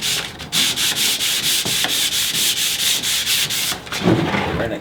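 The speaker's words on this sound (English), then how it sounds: "Then we're gonna come back and just kind of hit the corners where the sanding machine can't get into." A power sanding machine works across the grain of a wood cabinet, making a loud, rasping hiss broken into rhythmic strokes about every third of a second, close and alone without talk.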